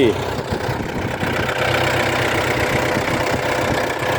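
A Yanmar YM357A tractor engine idles close by with a steady, chugging low rumble and a slight knocking rhythm throughout.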